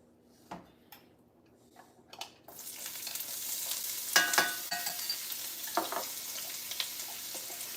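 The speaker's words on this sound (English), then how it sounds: "we're letting our oil get a little warm here" Cooking oil warming in a nonstick grill pan begins to sizzle after a few light clicks and knocks, then settles into a steady, soft hiss with scattered pops and crackles and no talking.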